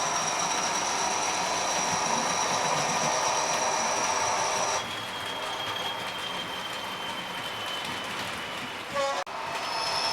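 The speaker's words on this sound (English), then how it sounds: "But this class 40, the braking, the sounds, it really is superb." A Class 40 diesel locomotive hauling a passenger train brakes with a sustained high metallic squeal over a low rumble. The squeal shifts pitch midway and a brief clank comes near the end.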